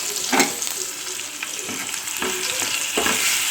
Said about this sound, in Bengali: এর মধ্যে গ্রেট করে রাখা আদা রসুনটা দিয়ে দিলাম এটাকে একটু এক দু মিনিট মতন নাড়াচাড়া করে নেব এখন